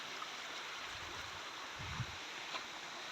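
A small waterfall near Megamalai gives a soft, steady rush of falling water, faint and somewhat distant, with a few light splashes and no voices.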